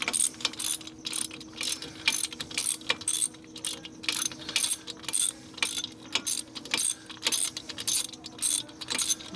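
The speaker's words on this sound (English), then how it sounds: "trying to turn the top of the wrench with my fingers" A ratchet wrench clicks rapidly in repeated bursts as it is turned by hand on the top end of a 1964 Harley-Davidson XL 900 Ironhead Sportster engine, close and crisp with brief pauses between runs.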